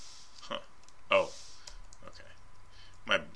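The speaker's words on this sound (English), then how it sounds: "I was trying to press my bracket keys and they weren't working." Computer keyboard bracket keys pressed during a Photoshop drawing session: a few sparse, quiet clicks spaced about a second apart, small isolated taps with a faint background hum.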